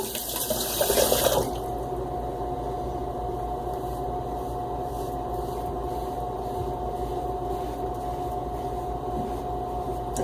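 Tap water running briefly into a shaving setup for Derby soap lather, a short splashing burst at the start, then a quiet steady hum and faint trickle for the rest.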